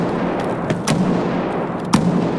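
Gunfire at AI bots in Escape from Tarkov, a few distant muffled shots, with two sharper reports about a second apart over a steady ambient rumble.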